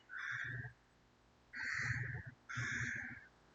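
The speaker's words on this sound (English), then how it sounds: "I think the birds are all having a bit of a fight out there" Several birds call outdoors in three loud, harsh bursts of a second or so each, squawking over one another like a squabble, with brief quiet gaps between them and no talking.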